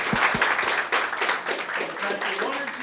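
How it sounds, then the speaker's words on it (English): A lecture audience breaks into applause, a dense wash of clapping from many hands, with a few distinct claps and voices talking over it. "Round of applause."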